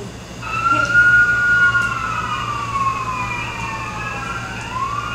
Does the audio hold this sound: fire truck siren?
yes